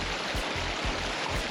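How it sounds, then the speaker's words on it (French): River water rushing and babbling in a steady, close stream as someone in Crocs wades across a river in Greece, with soft splashes as they step and no voices. "Rando en crocs, parce qu'il faut commencer par traverser la rivière."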